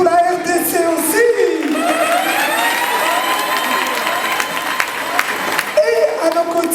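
Crowd applause and cheering fill the room at a Miss and Mister DR Congo pageant show, with scattered voices speaking over it at the start and end.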